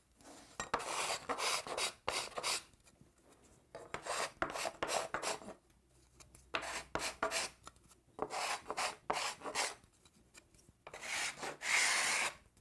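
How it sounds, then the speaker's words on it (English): Steel scraper rasping in repeated short strokes across a wood veneer panel to lift leftover tape, a dry close-up scratching in bursts with brief pauses between, no voices. "Any tape that didn't come off can easily be removed with this scraper."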